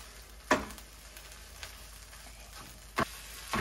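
Chorizo spread out in a hot pan with a spoon, a soft steady sizzle with a few sharp scraping clicks of the spoon against the pan.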